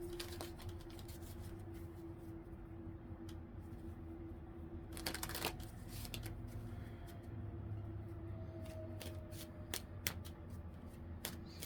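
Tarot cards are shuffled steadily for several seconds, a soft continuous riffling with a few sharper snaps, heard close and quiet over a low hum.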